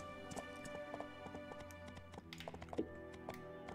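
Steady clip-clop of horse hooves in the video game My Time at Portia, with a busy layered game soundtrack behind it; the footfalls keep a loose, continuous rhythm throughout.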